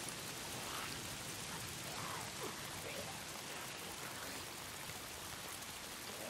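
Steady rainfall in the open-world video game Days Gone, a soft, even hiss of drops spread across the scene, faint and continuous with one small click near the end.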